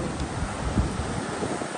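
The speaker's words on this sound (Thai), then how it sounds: "โอ้โหวันนี้ทะเลแรงมากฮะไม่มีใครกล้าลง" Rough seaside surf and strong wind roar steadily and loudly, with wind buffeting the microphone throughout and no voices.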